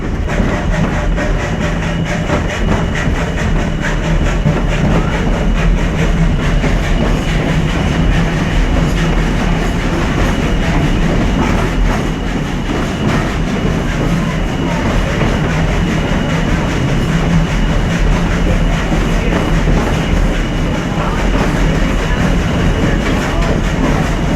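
A Virginia and Truckee Railroad train in Virginia City, Nevada, rumbling steadily along the rails, a continuous loud roar with low engine drone and faint rhythmic clatter throughout, no pauses.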